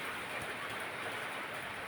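Steady hiss of falling rain with soft patter of raindrops, fairly even and continuous throughout, no voices.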